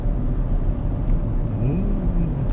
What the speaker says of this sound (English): So we're going nice and slow through this tunnel.